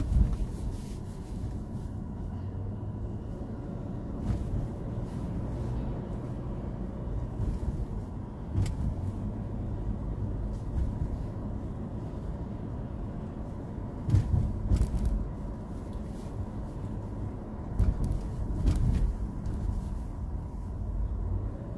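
A car drives through New York City streets: a steady, muffled rumble of engine and road noise heard from inside the cabin, with occasional louder bumps and passing swells and no talking.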